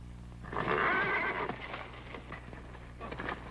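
A horse that has just bolted through a plaza gives a loud neigh, then hooves and scuffling follow in a period film scene.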